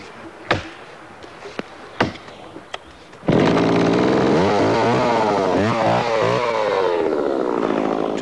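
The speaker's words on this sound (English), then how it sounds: "the chainsaw is used as its tip cuts down at an angle into the roots" Chainsaw cutting at an angle into tree roots while felling an ash tree: a few sharp knocks first, then the saw roars in loud and close, its pitch bogging and surging repeatedly as it bites.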